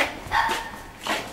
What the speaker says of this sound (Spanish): Y un perro.